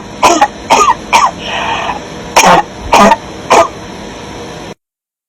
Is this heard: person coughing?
yes